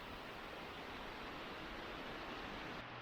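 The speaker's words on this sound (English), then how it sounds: "This is a big waterfall here." Jones Run Falls, a big waterfall in a rocky, boulder-strewn area of Shenandoah National Park, produces a steady, broad rushing roar of falling water with no voices.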